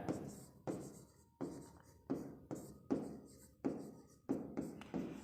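A pen or marker writing by hand during a math lesson, a steady series of about eight close, crisp strokes with short scratchy taps, each starting sharply and trailing off, with no voice.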